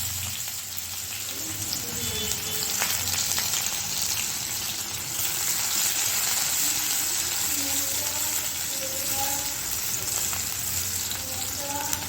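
Chopped onion frying in a pan for a rohu fish curry, a moderate continuous sizzle with occasional stirring clinks, steady over several seconds, with a voice faintly audible at times.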